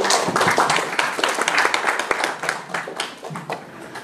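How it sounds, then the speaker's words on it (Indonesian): An audience applauds Pak Iwan Parlem at a farewell gathering. The clapping is dense and continuous, loud at first and gradually thinning out toward the end. "mari kita beri aplaus kepada Pak Iwan Parlem"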